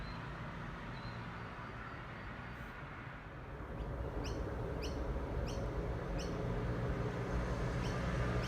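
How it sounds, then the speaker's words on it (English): Faint, evenly spaced bird chirps sound outdoors on a summer morning walk, partly masked by steady loud background noise that swells halfway through. "Get to listen to the birds, I guess."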